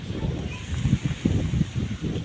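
Steady wind rushes and buffets against the microphone in low gusts, with no one speaking.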